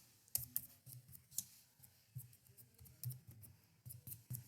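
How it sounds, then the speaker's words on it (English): Quick, irregular clicking of computer keyboard keys as a folder name is typed, close and quiet with uneven gaps between the presses. "then I type in my name of my folder"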